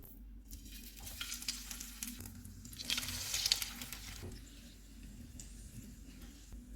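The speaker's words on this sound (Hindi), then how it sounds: "तवे के ऊपर फिर थोड़ा सा ऑयल डालेंगे।" Oil sizzling on a hot tawa griddle while food is fried for a kids' breakfast of eggs, with steady close frying hiss, a louder burst midway and occasional scraping stirs.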